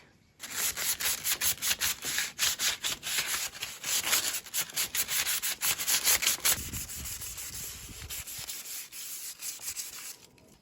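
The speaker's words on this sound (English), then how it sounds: "So eventually I set to sanding and varnishing the chair, preparing myself to cover it." Rhythmic rubbing strokes of sandpaper on a wooden chair, steady back-and-forth scraping close by, easing off toward the end.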